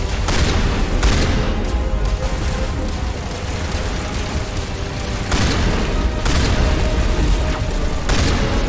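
Gunfire in Mass Effect Legendary during a final showdown battle: dense, booming bursts of weapon fire in quick clusters, loud and close over continuous combat noise.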